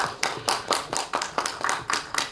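Applause at a Tamil film award ceremony: a steady run of close, sharp claps with no voices over it.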